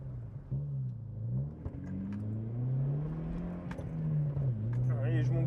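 A Volkswagen Golf 3 engine revs up toward about 6000 rpm while accelerating, a droning whine rising and dipping in pitch as it climbs, heard from inside the car with a voice talking over it.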